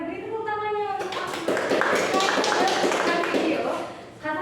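A classroom of students claps together in a dense burst of applause, close and lively, fading out near the end, with a voice speaking just before the clapping starts.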